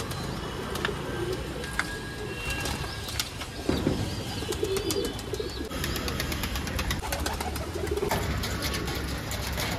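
Shirazi pigeons coo softly with occasional wing flaps close by, amid steady background noise and faint chirps.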